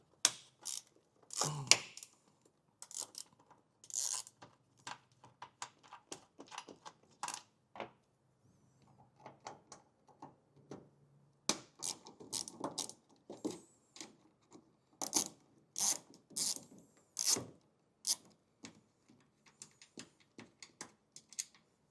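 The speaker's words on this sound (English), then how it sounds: "we're gonna want a T25 Torx bit, and there's gonna be 2 screws that we're gonna remove" Two T25 Torx screws being backed out of a 2020 Ram 1500 taillight housing, heard as a series of sharp, close metallic clicks and ticks in irregular bursts with quiet gaps, no talking.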